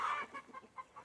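Chickens on a homestead cluck in a short burst, a louder call at first followed by several softer rhythmic clucks, close by with no talking.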